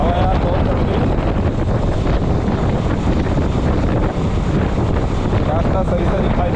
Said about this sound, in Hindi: हवा यार बहुत चल रही है।